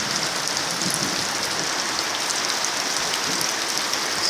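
Heavy rain pours steadily onto the ground and surfaces of a muddy yard, a dense, constant hiss with close drop patter, even in loudness and with no voices.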